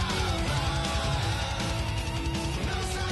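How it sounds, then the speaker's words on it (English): Dense rock mix with pounding drums driving under distorted guitars, loud and continuous throughout. "I love the sound of those drums."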